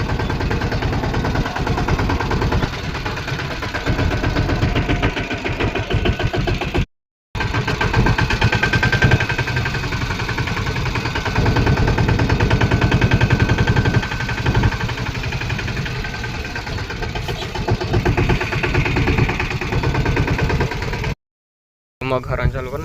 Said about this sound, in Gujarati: અત્યારે હારવા ચાલુ કરી નાખ્યું છે અને ટ્રેક્ટર લઈ લે મોહરી નાખી